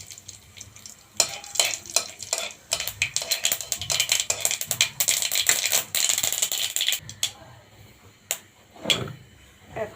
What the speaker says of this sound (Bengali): মরিচ ভাজা হয়ে গেছে, দিয়ে দেব গোটা সরিষা।